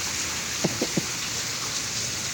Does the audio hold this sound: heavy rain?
yes